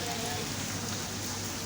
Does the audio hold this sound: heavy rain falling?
yes